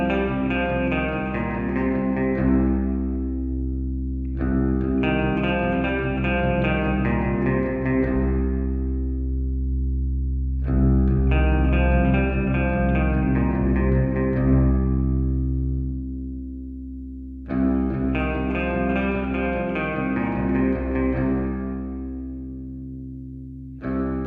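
Electric guitar chords played through a UAFX Heavenly Plate reverb pedal, ringing in four repeated strummed phrases with long plate reverb tails while the EQ knob sweeps across its range from dark to bright, with no talking.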